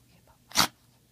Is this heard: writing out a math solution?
no